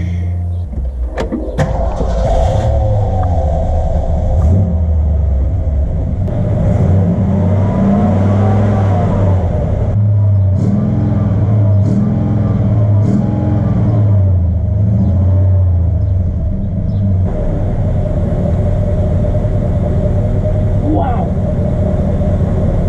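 A 1965 Lincoln Continental's 7.5-liter V8 rumbles loud and close, swelling through several revs into a deep roar and settling back to a heavy idle, with someone talking over it.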